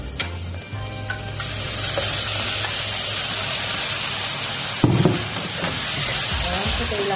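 Pork for adobong baboy hits a hot pan with garlic and sizzles loudly, a steady frying hiss that swells after the drop and continues with stirring scrapes near the end.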